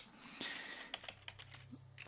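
A computer keyboard is typed on in a quick burst of light, clicky keystrokes, close and fairly quiet, with a brief rustle just before.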